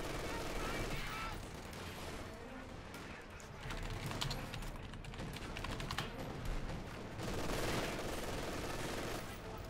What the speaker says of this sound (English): MG opening fire